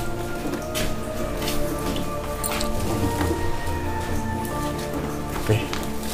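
Rain patters and drips around an old fort at Karangmojo, a steady wet hiss with scattered drops while people talk over it.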